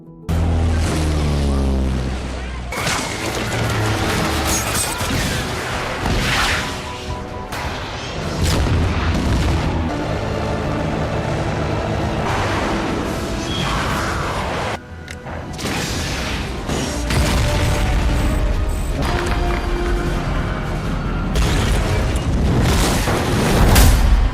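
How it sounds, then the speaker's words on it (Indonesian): Loud, booming explosions and rumbling blasts from a film scene in which a US fighter jet fires a missile and shoots down a foreign aircraft, with dense, continuous roaring noise and heavy low-end impacts throughout. "jet tempur Amerika tiba di lokasi dan segera meluncurkan rudalnya ke arah pesawat asing tersebut hingga akhirnya berhasil dijatuhkan"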